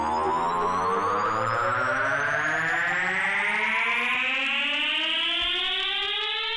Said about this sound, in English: we've got now layered 2 risers and they'll both sound like this